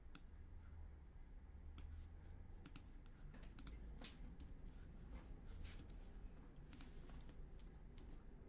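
Computer keyboard keys pressed in a quiet room, a scattered series of light clicks at irregular intervals, faint and close, with no talking.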